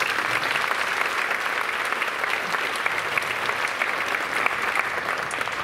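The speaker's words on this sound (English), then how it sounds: "Let's give them a round of applause." A school holiday concert audience claps steadily and loudly for several seconds, a dense wash of applause with no pause.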